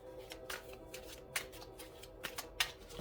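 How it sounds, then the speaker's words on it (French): Tarot cards being shuffled close by, a string of quiet crisp riffles and papery slaps in an uneven rhythm over a faint steady hum. "Je vais rajouter 3 cartes du tarot, du Before Tarot."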